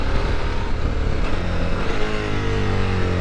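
A 2023 Suzuki V-Strom 1050DE adventure motorcycle on a test ride in Greece, with a loud, steady engine drone and heavy wind rush close up, and no voices.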